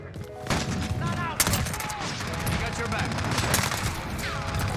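AS VAL assault rifle fire in Modern Warfare, rapid loud automatic bursts crackling almost continuously, with sharp peaks and game effects and voices mixed in.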